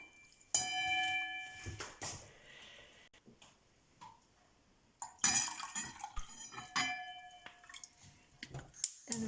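Water is poured into a pan holding cardamom and dry ginger powder for vegan masala chai, in two faint splashing, trickling bursts with light clinks between them.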